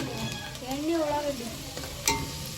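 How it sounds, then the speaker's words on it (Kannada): Onion drops into hot oil and fries with a bright, close sizzle and some stirring over a couple of seconds, with a brief voice heard partway through. "ಎಣ್ಣೆ ಬಿಸಿ ಆದ್ಮೇಲೆ ಉಳ್ಳಾಗಡ್ಡೆ ಹಾಕಿ ನೋಡ್ರಿ"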